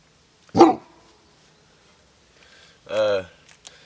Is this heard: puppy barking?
yes